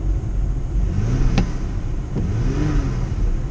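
A Nissan Pathfinder's V6 engine idles with a steady low rumble, then two quick revs rise and fall close by, with no talking.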